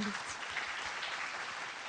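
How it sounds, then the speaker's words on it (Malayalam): A studio audience applauds the young singer Ajal on a junior singing talent show, a dense, steady wash of clapping lasting two seconds at moderate volume. "നല്ലൊരു കൈയടി കൊടുക്കണം അജലിന്"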